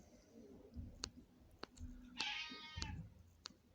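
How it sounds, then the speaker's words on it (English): A cat asking for treats lets out a tonal meow indoors, surrounded by sharp clicks and light background noise. "My cat's tripping out because she wants kitty treats"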